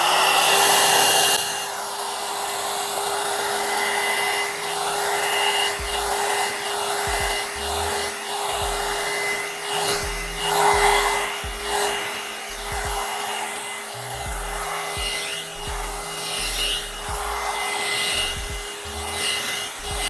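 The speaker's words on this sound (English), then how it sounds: "So first I'll be using a cool setting to dry and brush my hair" An Aima Beauty hot air brush hair dryer runs on its cool setting with a steady airflow hum, while bristles rub and scrape through hair in repeated strokes up close.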